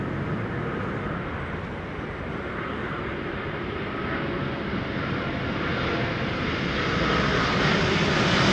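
Airplane jet engines at London Heathrow Airport spool up into a loud, steady roar that builds slowly over several seconds, with no voices over it.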